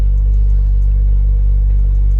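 A BMW engine idling during a battery and charging-system test, a loud, steady low rumble with an even, unchanging hum throughout.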